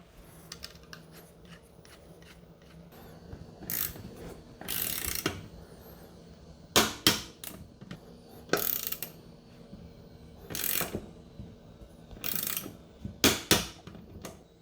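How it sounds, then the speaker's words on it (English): A torque wrench tightens roof rack load bar bolts on a Suzuki Jimny, making repeated close ratcheting clicks in short bursts with pauses and some metallic handling between strokes. "now we need to torque these up to 25 Newton meters."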